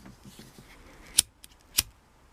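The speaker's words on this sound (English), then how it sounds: "Need to sharpen my scissors." Two crisp scissor snips cut through ribbon, close and distinct, about half a second apart after a few soft handling sounds.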